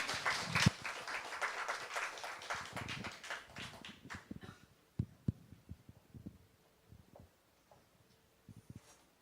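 An audience at a church concert applauds in a dense burst of clapping that thins over several seconds into scattered, isolated claps.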